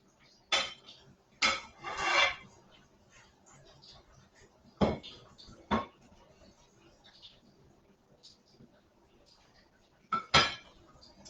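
A spoon stirs mixed spice into a cooking pot, giving several sharp metallic scrapes and clinks in irregular bursts with quiet gaps between them, close and fairly loud.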